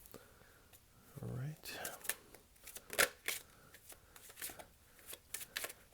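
Tarot cards are shuffled by hand, with a run of crisp, uneven riffling and slapping sounds close to the microphone and soft speech now and then.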